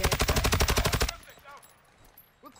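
Automatic gunfire in the video game Call of Duty Warzone, a loud rapid burst of about a dozen shots lasting roughly a second, followed by faint game ambience and quiet scattered clicks.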